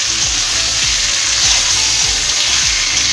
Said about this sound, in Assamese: ইয়াত আলুখিনি দি দিলো অলপ ভাজি লওয়ার পিছত